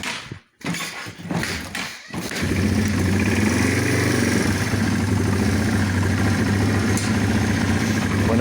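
A Yamaha TW200 motorcycle with the choke on starts with a few sputtering cranks and catches. It then settles into a loud, steady, fast idle that runs close and uninterrupted.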